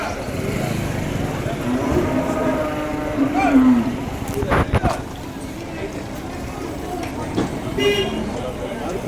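At the Vaniyambadi cattle market, cattle give a few drawn-out moos close by, heard under steady talk from traders and a busy outdoor crowd with passing engine noise.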